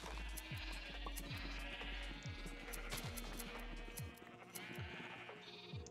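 Sheep bleat in a railroading video game amid a busy, layered game soundscape, with repeated low thumps and steady background noise throughout.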